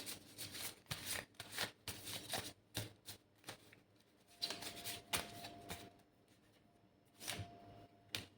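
Handwritten cards are shuffled in quick, quiet bursts of papery flutter and riffling, repeating irregularly with short pauses in between.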